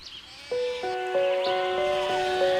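An old goat bleating, a sustained, wavering tonal cry held for about two seconds, fairly close and clear with faint background noise.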